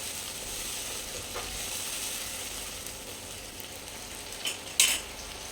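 Tomato puree frying in oil with onion and chillies, a soft continuous sizzle with a few utensil scrapes and clinks near the end.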